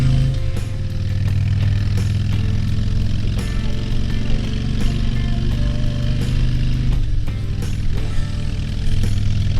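A motorcycle on a test ride cruises along a smooth road after rough, sandy gravel, with a steady engine drone and wind rumble that stay close and constant throughout.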